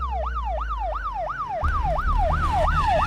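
An ambulance siren wails in a fast, repeating up-and-down sweep, loud and steady, with a low engine rumble underneath that grows stronger halfway through.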